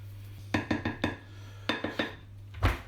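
A utensil mixes salt into hot potatoes in a dish, two quick runs of four or five sharp clinks and scrapes, close and fairly quiet, with a low steady hum underneath and a soft thud at the end.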